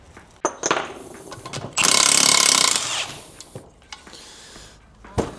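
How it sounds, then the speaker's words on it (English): A half-inch pneumatic impact wrench fires one loud, roughly one-second burst to loosen a tight pressure relief bypass on a Sea-Doo engine, with workshop clanks and taps before and after. "It's so tight I had to use a 1/2 inch rattle gun on there."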